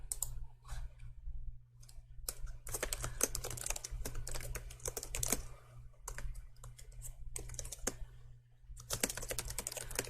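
Steady, fast typing on a computer keyboard, a continuous patter of close key clicks with short pauses, over a low background hum.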